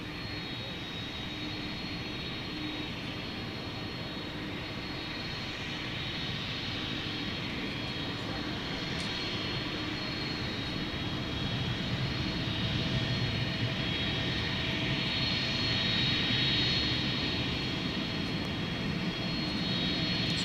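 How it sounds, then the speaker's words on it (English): A jet airplane taxis at DFW Airport at night toward runway 18 Left for takeoff, its engine a steady, distant roar that swells gradually, with no voices. "whether this plane will head over to 18 left for takeoff"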